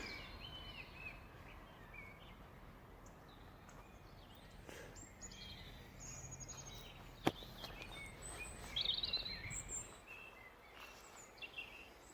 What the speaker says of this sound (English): Now as you can hear, there is quite a lot of birds going about.